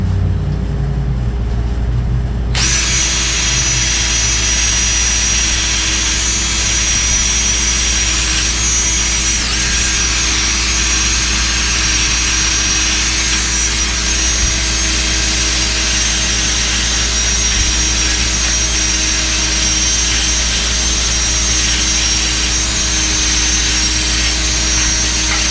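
A power tool grinds at the remains of a metal shaft on a 1977 Pontiac Trans Am, a loud, continuous high-pitched whine that kicks in after a brief low hum and runs steadily without pause.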